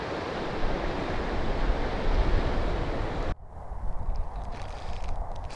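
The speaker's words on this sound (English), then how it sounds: "the surf is splashing" Gentle sea surf breaking on a shore near salt marshes north of Sète, France, as a steady rushing wash mixed with heavy wind buffeting on the microphone, which drops abruptly partway through before softer surf continues.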